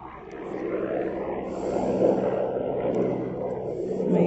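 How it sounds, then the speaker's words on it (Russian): A helicopter passes overhead above a potato garden at the end of summer, a steady, moderately distant engine and rotor drone that swells slightly at its nearest point. "Вертолет."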